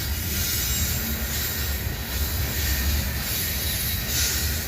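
A train rolls past on rails in Abbeville, a loud, steady rumble of wheels with occasional squeal from flanges rubbing the rails, sustained throughout and close by.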